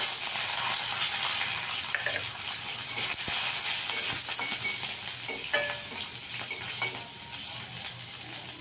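Garlic fries in hot oil with black cumin in a pan, a steady close sizzle and hiss with occasional stirring scrapes throughout, no talking.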